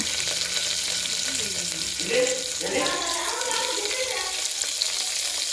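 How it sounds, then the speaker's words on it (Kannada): Onion, garlic, mustard seeds, cumin and curry leaves frying in hot oil for a radish sambar, a steady close sizzle with some stirring clatter in the middle. "ಹಾಕಿ ಫ್ರೈ ಮಾಡಬೇಕು. ಎರಡು ನಿಮಿಷಗಳ ಕಾಲ ಫ್ರೈ ಮಾಡಬೇಕು."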